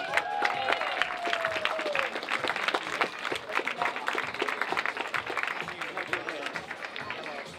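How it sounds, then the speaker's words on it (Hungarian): Crowd claps at an outdoor running race award ceremony, brisk and fairly steady applause for several seconds, with a few voices mixed in. "Nagy tapsot kérünk"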